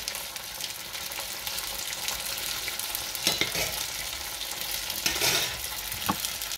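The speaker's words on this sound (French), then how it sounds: "Vraiment, on les cuit, on les retourne à peu près 2 minutes." Chicken spring rolls (nems) fry in hot oil while being turned, a continuous crackling sizzle with a few louder bursts of spitting as they are moved around in the pan.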